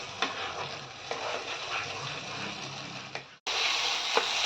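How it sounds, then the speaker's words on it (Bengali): Spice paste for Bengali egg curry sautés in a pan with a soft, steady sizzle and the scrape of a spatula stirring, cut by a brief break before frying resumes louder. "আর ভালো করে কষাতে হবে আগে"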